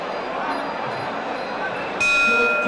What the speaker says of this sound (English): At the sound of the bell, I feel myself tense